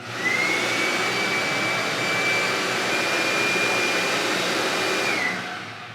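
A Ridgid 10-gallon, 6-horsepower shop vac runs steadily and loudly, a continuous motor roar with a faint high whine, switching on at the start and spinning down just before the end.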